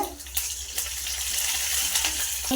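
Curry leaves drop into a pot for goat leg soup, setting off a steady, close crackling sizzle that holds for a couple of seconds with a small clatter at the end.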